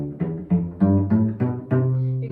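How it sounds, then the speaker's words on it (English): Cello strings plucked pizzicato in a quick series of six resonant notes, each with a sharp attack and warm, ringing decay, close and clear with no talking. "So when you pluck the string, that's called pizzicato, and it sounds like this."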